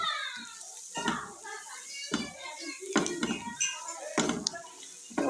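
A spoon scrapes and clinks against a cooking pan while turmeric, red chili, coriander powder and salt are stirred in, several rhythmic metallic strokes under a person talking, with children's voices in the background.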